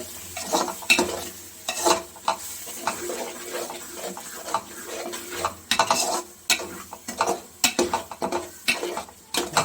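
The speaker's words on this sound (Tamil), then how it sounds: "மசாலா போட்டு கிளறி" Chili powder, coriander powder and biryani masala stirred in a pan for chicken biryani, with repeated scraping and clinking strokes of a spoon over a low steady sizzle, close and continuous, no voices.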